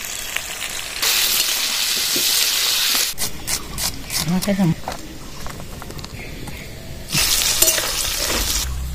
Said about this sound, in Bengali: আলুগুলো এবার তেলে ছেড়ে দেবো।